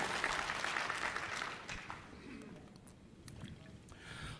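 Applause from a conference audience at Microsoft Ignite 2015 fills the room as a dense wash of clapping that gradually fades, with speech faintly mixed in.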